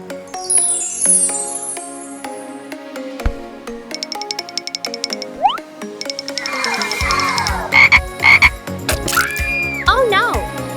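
A cartoon frog croaks in a toy play scene, with chirpy synthetic calls and squelchy slime-like effects mixed over light background music, moderately loud and close.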